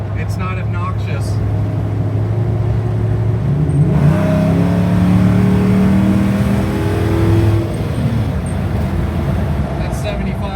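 Exhaust of a Chevrolet K5 Blazer engine, a steady deep rumble that swells into a rising rev in the middle and then settles back to idle, close and loud.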